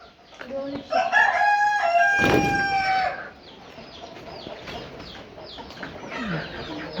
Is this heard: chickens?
yes